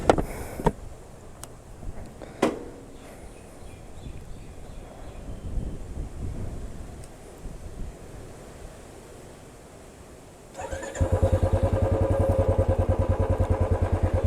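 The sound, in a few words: Royal Enfield Stealth Black 350 motorcycle engine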